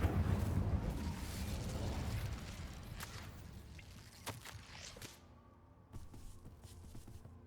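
An Incendio fire spell cast in Hogwarts Legacy gives a loud whooshing burst of flame that roars and crackles, then fades into a quieter low rumble with faint mechanical ticks.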